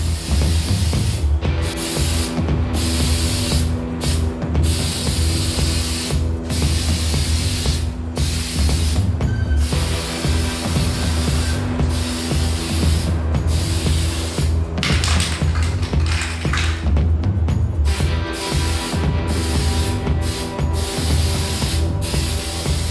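An aerosol can sprays thick automotive-grade undercoating in long, loud hissing bursts, close to the listener, broken by short gaps and faint rattles of the can.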